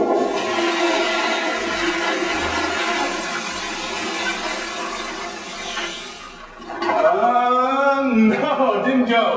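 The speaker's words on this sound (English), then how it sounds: "Here we go with the flush." A toilet flushing with a frozen bean burrito in the bowl: a loud, steady rush of water for several seconds, dipping briefly, then resurging with gurgling refill, under occasional talk.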